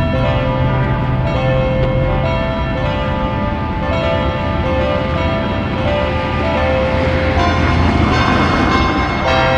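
Church bells ringing loudly and continuously, overlapping tolls sustaining clear tones with a dense clangorous wash beneath, no voices.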